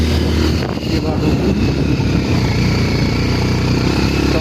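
A motorcycle struggles uphill in cold weather on the high mountain road toward Manang. The engine drones loud and close, steady and strained, and it carries on without a break through the whole stretch.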